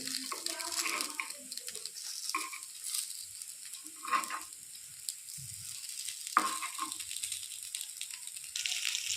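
Appe sizzle and fry in an appe pan after being flipped with a knife, a faint, steady crackle broken by a few brief scrapes and clicks nearby.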